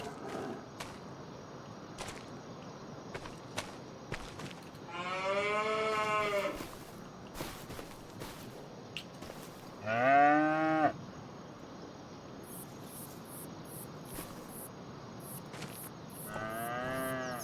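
Cattle mooing in Farming Simulator 25, three long drawn-out lowing calls spaced apart over a quiet rural background with faint clicks and insect-like chirps.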